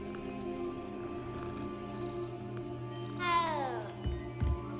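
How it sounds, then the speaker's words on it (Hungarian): A cat meows inside the video game Hogwarts Legacy, a single drawn-out descending meow standing out over steady game music and ambience, followed by a couple of soft low thumps. "Kedves cica."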